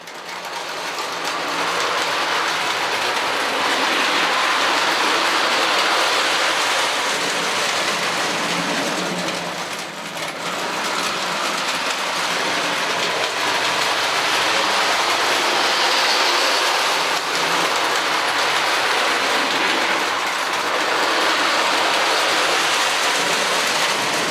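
A small electric model Lionel train with a box cab electric-style engine and two passenger cars runs steadily on its track, a continuous whirring motor hum with rattling wheels, fairly close and even throughout.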